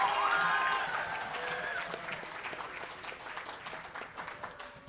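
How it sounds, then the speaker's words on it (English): Audience applause at a Poetry Out Loud recitation event for a student reciter, fairly loud at first, then gradually thinning and fading, with a brief tonal sound near the start. "let's have one more round of applause for Aditya Tripathi"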